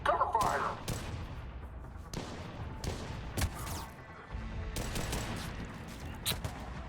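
Covering gunfire in Mass Effect 3 combat, a series of sharp separated shots and bursts cracking out irregularly over a low battle rumble, with a voice briefly talking.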